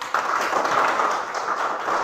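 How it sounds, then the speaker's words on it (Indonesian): Students in a classroom applaud Felix with a short burst of steady group clapping, moderately loud and continuous for about two seconds. "Oke, tepuk tangan untuk Felix."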